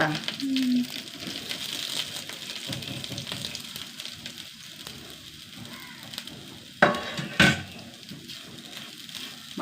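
Dried red chillies, curry leaves, coriander and coconut crackle and sizzle softly as they roast in a hot pan, with scraping stirs and a couple of sharp clacks of a utensil against the pan.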